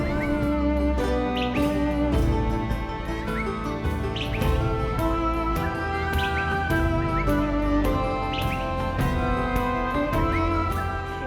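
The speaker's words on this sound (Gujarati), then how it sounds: "અને હું જ્યાં ઊભી છું ત્યાં તો મને મોરના ટહુકા પણ સંભળાય છે." Peacocks call repeatedly, loud wailing cries rising every second or two against a dense, busy background, at Balaram near Jessore, Banaskantha, Gujarat.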